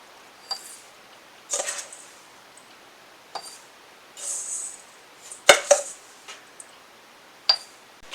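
Bath salts with dried lavender buds stirred in a glass jar, a handful of short gritty scrapes and light clinks against the glass, close and alone.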